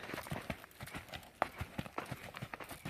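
A horse cantering in a roughly 20-metre circle on a long line, its hoofbeats landing in a steady, repeating rhythm at close to middle distance, with faint background noise and no speech.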